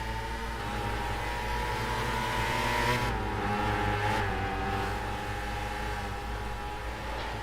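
Formula Micro race cars at Martinsville in a late-race feature, their engines droning in a steady continuous roar with layered harmonic whine, loud and sustained throughout as the cars run side by side.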